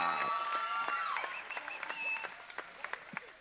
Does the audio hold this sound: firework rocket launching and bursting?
no